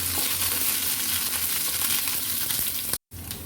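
Cumin, ginger and garlic fry in hot oil in a pan, giving a loud, steady, dense sizzle that runs throughout and then cuts out briefly near the end, with no voices.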